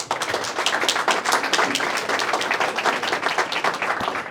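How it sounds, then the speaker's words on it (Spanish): An audience breaks into sustained applause for a work team at a rights event, dense steady clapping filling the room, loud and continuous throughout. "lo primero que yo le pido es justamente un aplauso a mi equipo de trabajo"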